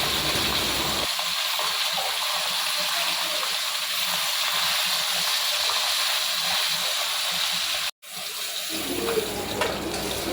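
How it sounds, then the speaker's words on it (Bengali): Pomfret fish sizzling in mustard oil in a wok as they are turned and fried until lightly red, a continuous close hiss and spatter with a brief break near the end, and no speech. "মাছগুলো এপিট ওপিট করে হালকা লাল করে ভেজে নিলাম।"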